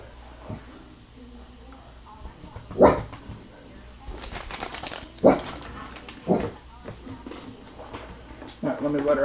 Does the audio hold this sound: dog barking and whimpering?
yes